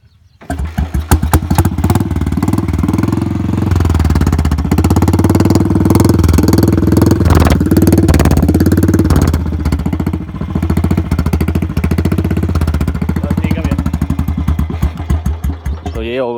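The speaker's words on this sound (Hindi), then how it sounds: "तो एक बार साइलेंसर की आवाज़ सुना दो।" A Royal Enfield motorcycle modified into a Harley-style chopper idles loudly and close by through its modified exhaust, with a deep, lumpy, throbbing rumble and a few small blips of throttle.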